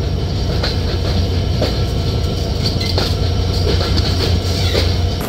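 The Titumir Express runs on just after leaving Natore, its older coaches giving a steady loud rumble with repeated rail clicks and a faint high whine, heard from inside the train.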